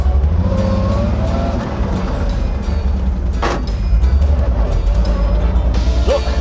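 A GAZ 51A truck drives with a steady, loud engine drone close by, the engine note shifting as gears are changed, with a brief sharp burst mid-way.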